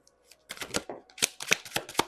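Tarot cards are shuffled by hand in a quick, close run of crisp riffling bursts, about eight sharp flutters with short gaps, loud and alone.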